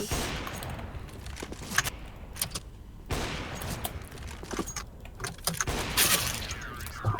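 Rapid gunfire from a video game shooting match, bursts of shots and clattering impacts coming in uneven clusters, fairly loud and close, with no talking.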